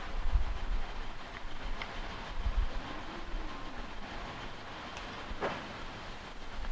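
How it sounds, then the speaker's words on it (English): A CNC plasma cutting table's torch carriage moving into position over a panel, a low, steady mechanical rumble with faint clicks and whirs, continuous and fairly quiet, with no talking. "the fire carriage is going to adjust to its position before it drops"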